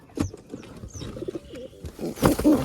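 Pigeons kept in a home loft coo in soft rounded calls, several close coos with brief chirps and a rustle in between, no talk.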